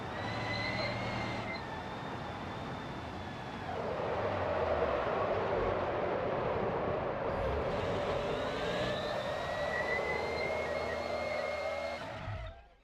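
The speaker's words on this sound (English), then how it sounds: "Why am I in fourth gear about to friggin' blow up my engine?" A car engine in the BeamNG driving game over-revving in fourth gear, a sustained loud mechanical whine and roar with rising and falling pitch, continuous for the whole stretch with no speech.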